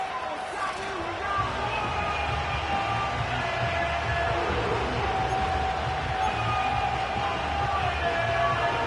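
A home crowd roars steadily in a Madden 25 football stadium, a dense, continuous wash of cheering and yelling that holds level throughout, with a voice talking over it.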